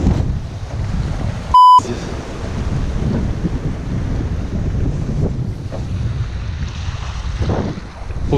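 Wind roars and waves wash constantly during a small October storm on the Kama river near a rocky shore, with a loud, dense, rumbling texture. A short electronic beep cuts in early.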